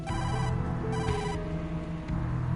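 A phone rings in the video game Tokyo Dark, a loud electronic ringtone with repeating trills over a steady background drone.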